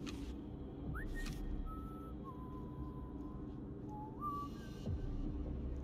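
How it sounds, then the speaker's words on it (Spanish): An enemy soldier whistles a slow tune in the video game Wolfenstein II: The New Colossus, a faint, thin melody of several sustained notes over a low game ambience, with no talk. "El que está silbando, ¿no?"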